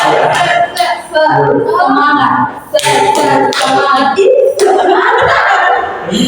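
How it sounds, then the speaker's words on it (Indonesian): A group in a classroom counseling session claps in rhythmic bursts in a counted spirit-clap routine. Sharp, loud, close hand claps come in short clusters, with brief pauses between them. "satu kali tepuk semangat, dua kali tepuk semangat, tiga kali tepuk semangat"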